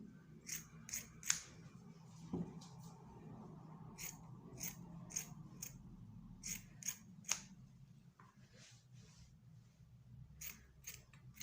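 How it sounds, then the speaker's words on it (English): Scissors snip through a piece of wadding for a bridal hand fan base, a string of quiet, crisp cuts coming in quick clusters with brief pauses between them. "So I'll cut some piece of wadding."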